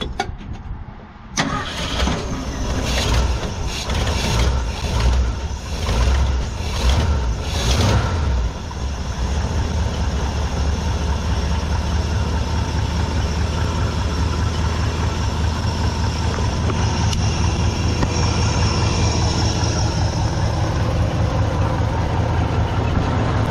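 A Ford truck from the 1999–2007 range, fitted with a cold air intake kit, cranks over and then settles into a steady, loud idle close by, with a faint intake inhale and no talking.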